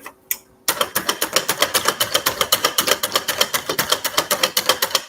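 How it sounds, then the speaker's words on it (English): Rapid, rhythmic chopping clatter of a hand-cranked nut chopper chopping walnuts, loud and close, repeating steadily for several seconds after a brief pause. "Go ahead and chop these walnuts. It's gonna be noisy."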